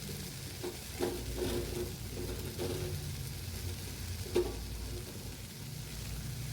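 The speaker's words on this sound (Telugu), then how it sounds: "నేనైతే మొత్తం బీరకాయ అంతా వేసుకుంటున్నానండి" Ridge gourd pieces tipped into a frying pan and stirred in, giving soft scraping and stirring strokes over a steady low sizzle, with one sharper clink near the end.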